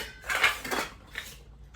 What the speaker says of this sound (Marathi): आता भांडी घासायची चालल्यात